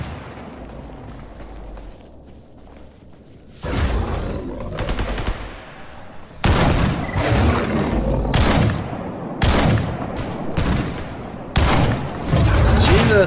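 Heavy gunfire in the S.T.A.L.K.E.R. shooter game erupts after a quiet ambient stretch, loud bursts of automatic fire and booming shots coming in repeated volleys.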